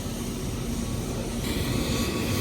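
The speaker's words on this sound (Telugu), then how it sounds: "ఆ ఫ్లైట్ వచ్చి ఎయిర్బస్ 320" A loud, steady roar of an Airbus A320 jet airliner engine fills the scene, a broad continuous rumble with no speech.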